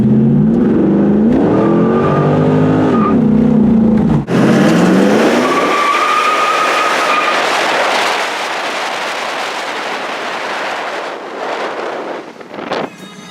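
A fourth-generation Pontiac Trans Am accelerates hard up close, its engine note climbing steadily before a gear change drops it into a second pull, with strong wind rush over the microphone throughout.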